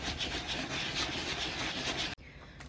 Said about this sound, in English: So I did some light sanding.